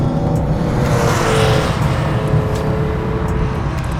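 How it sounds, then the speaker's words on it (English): A carbureted 1973 Porsche 911 2.7 RS hot rod engine roars loudly, steadily and continuously, its deep rumble swelling slightly as it revs, heard from close by. "when you dip into it, you hear the carburetors open up"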